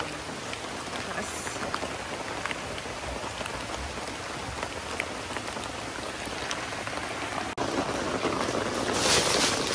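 Heavy rain drums steadily on the roof of a vehicle during an off-road trip with river crossings, a dense, continuous hiss of drops that swells slightly louder near the end, with no talking.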